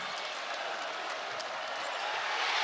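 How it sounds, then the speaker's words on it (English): A basketball crowd at a Boise State vs GCU college game cheers and applauds in a broad, steady roar that swells toward the end, with no clear voice above it. "now the crowd is coming back to life"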